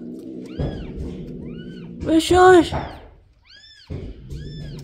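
Kittens meow repeatedly in a rural Philippine home being moved into a box, their short rising-falling mews sounding near and clear, with a brief louder cry mid-clip as a person hushes and talks.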